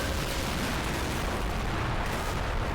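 An armor-piercing round fires in the toy-soldier war game Army Men of War, a dense, loud wash of blast and rumble that holds steady for the whole stretch with no pause.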